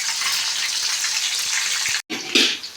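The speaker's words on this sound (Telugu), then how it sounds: "పచ్చిమిరపకాయలు కలుపుకోండి. ఇవి బాగా వేగనిద్దాం," Green chillies frying in hot oil in a pan for an egg tomato curry, a close, steady sizzle with a brief break and a louder crackling flare near the end.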